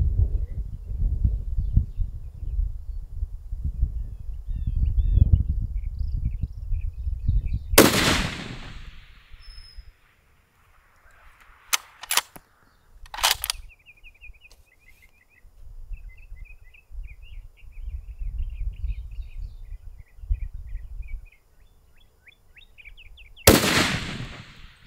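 A .338 rifle fired at a long-range target during Texas plinking gives two sharp, loud blasts about sixteen seconds apart, with a couple of quieter cracks and faint birdsong between them over outdoor wind rumble.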